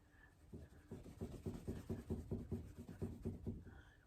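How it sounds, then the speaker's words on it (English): Written math being erased by hand, a brisk series of about eight rhythmic rubbing strokes, close and fairly soft, with no talking. "Let me erase this."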